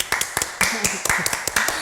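Several sharp hand claps ring out in an uneven rhythm, close and fairly loud, with no talking over them.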